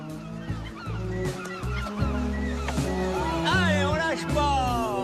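Gulls and a black cormorant on the Baie de Somme call out in loud, honking cries that overlap steadily, continuous and close, over a dense, noisy outdoor background.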